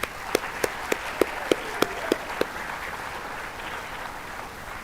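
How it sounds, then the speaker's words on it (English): Applause for an award recipient at a winter sports awards ceremony: several loud, evenly spaced claps stand out close by over a softer spread of clapping from the crowd, which fades gradually. "So a round of applause for Serena."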